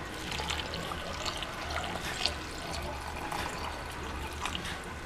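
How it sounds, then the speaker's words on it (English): Water, 500 ml of it, pours into a smoothie cup in a steady splashing, gurgling stream, close and continuous for several seconds with no talking. "lastly, you're going to add your 500 ml of water."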